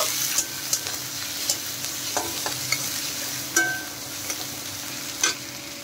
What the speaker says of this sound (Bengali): কুচনো পেঁয়াজ আর কুচনো কাঁচা লঙ্কা দিয়ে একটু ভেজে নেব